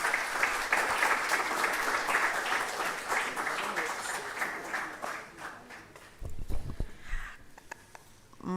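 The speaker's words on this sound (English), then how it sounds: "Let's welcome her with applause." An audience at a research institute's opening ceremony applauds to welcome a speaker, a steady wash of many hands clapping that fades after about six seconds into scattered claps and shuffling.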